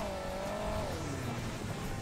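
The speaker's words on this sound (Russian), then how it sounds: "Трактор едет на, на форсаже." Tractor engine in the mobile racing game Hill Climb Racing 2 running on nitro boost, a steady loud droning whine that bends down in pitch partway through, continuous with no pauses or talk.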